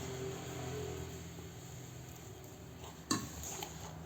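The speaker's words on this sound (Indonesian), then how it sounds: "Kita aduk kembali, kita sesuaikan hingga adonannya bisa dibentuk." Cenil dough being stirred in a bowl gives quiet, soft scraping and dull clinks of a utensil against the bowl, with one sharper knock partway through, low room hum underneath and no talking.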